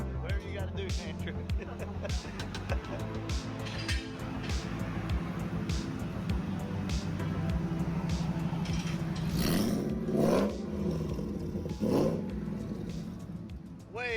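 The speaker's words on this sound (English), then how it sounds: "As you can hear, we got the muffler changed out on the truck." Ford SVT Lightning pickup with long-tube headers and a Magnaflow muffler, a raspy idling exhaust that pulses steadily, then rises through a couple of revs before settling, with people talking over it.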